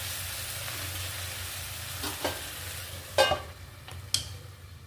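Green chillies stuffed and coated with gram flour fry in a pan with a steady, close sizzle, broken by a few sharp utensil clinks and scrapes near the end.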